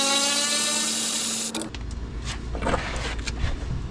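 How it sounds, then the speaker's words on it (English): A cordless electric ratchet whirs steadily at close range on the rear strut suspension bolts of an R50 Mini Cooper, then stops, followed by clattering metal tool and hardware handling. "should be able to use my electric ratchet now"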